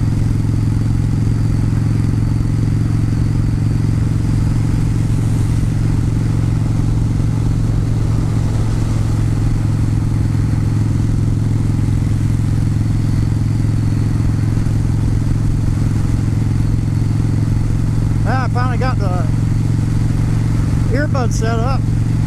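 A motorcycle with its windshield removed drones steadily on an early-morning ride, a constant low engine hum mixed with wind rush, while a rider speaks over it throughout.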